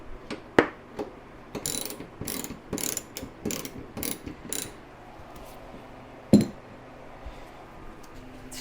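A ratchet tightens bolts during a radiator installation on a C3 Corvette, with several quick bursts of clicking separated by short pauses and a sharp metallic clank, close by and with no talk.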